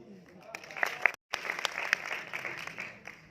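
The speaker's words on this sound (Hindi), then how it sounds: "अब बजाओ ताली" Scattered claps come from the audience at a live Hindi poetry and shayari show, sparse and uneven with several sharper individual hits and a brief dropout. Talk mixes in with the clapping.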